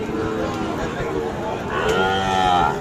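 A young Sahiwal bull calf moos at a busy cattle market, one drawn-out call near the end over a constant murmur of crowd talk.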